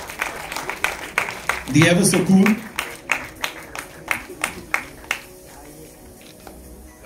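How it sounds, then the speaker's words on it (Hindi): At a film launch event for The Vaccine War, a crowd claps in a loose, uneven rhythm of sharp hand claps while someone speaks over it. "डॉक्टर जयंती लाल गणा साहब के लिए जोरदार तालियां."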